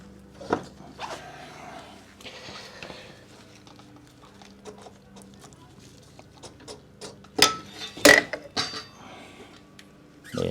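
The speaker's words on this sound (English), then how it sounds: "I hope we can remove the front wheel without needing to remove the brake caliper first" Front wheel being removed from a BMW R100GS motorcycle, with scattered mechanical creaks, clicks and scraping rising to a few louder sharp knocks near the end, close by and without talk.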